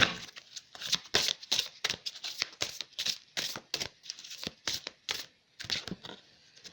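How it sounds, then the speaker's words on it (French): A deck of oracle cards is shuffled by hand up close, a quick rhythmic series of around twenty crisp riffling slaps and flutters that stop near the end. "Je vais prendre 3 cartes. On va bien les mélanger."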